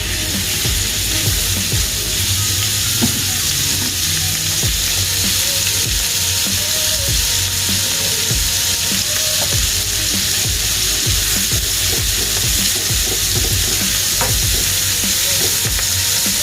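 Beef sears in melted butter in a pan for stroganoff, giving a loud, steady, dense sizzle and crackle with small scattered pops and occasional clicks throughout.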